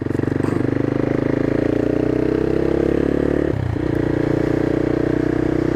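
A CCM Flat Tracker motorcycle engine runs steadily and loudly up close, holding a dense rumbling drone, dipping briefly around a gear change, then pulling on again smoothly.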